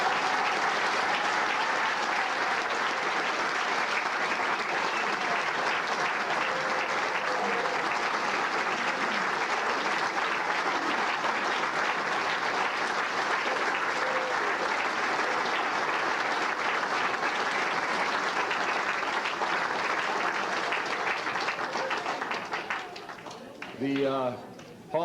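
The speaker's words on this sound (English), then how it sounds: "I'd like for us to please give one more hand to all of our honorees this evening." An audience at an athletic Hall of Fame ceremony applauds its honorees, a dense, steady roar of clapping from a large crowd that holds for many seconds before tapering off, with a voice emerging near the end.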